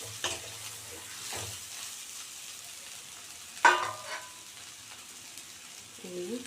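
Vegetables, potatoes and soya chunks frying in a pan as water is poured in. A soft, low sizzle runs underneath, with a sharper clatter and splash partway through.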